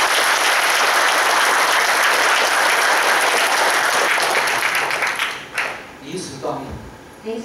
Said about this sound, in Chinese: 加鼓励，加鼓掌。